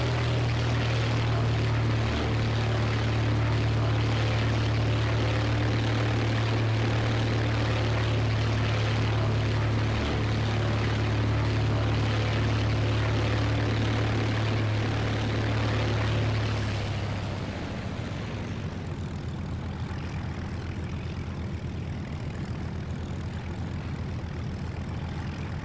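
Propeller aircraft engine in the War Thunder video game, a loud steady droning roar with a constant low hum that holds for most of the clip, then thins and fades toward the end, with no talk.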